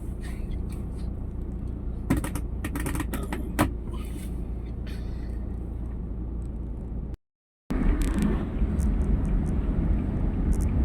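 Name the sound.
road traffic heard from inside a car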